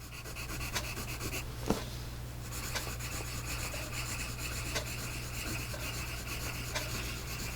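A Doms Fusion extra-dark pencil scratches across paper, a faint, steady rasping drag close up over a low constant hum.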